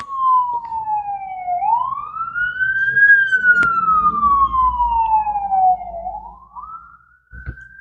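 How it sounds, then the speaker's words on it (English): A fire truck siren wails loud and close as it passes, sweeping slowly up and down in pitch, with engine rumble underneath and a brief horn-like blip at the end. "Oh, it's a fire truck this time."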